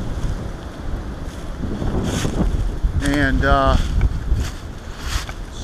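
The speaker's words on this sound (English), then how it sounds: "See, it's pretty damn windy out." Strong wind gusting across the microphone on a very windy day in the woods, loud and buffeting throughout, with someone speaking briefly over it.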